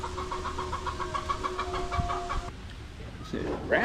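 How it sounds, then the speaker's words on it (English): Chickens cluck in a short run of repeated calls, fairly close, with faint background noise and a brief different call near the end. "Chase them chickens."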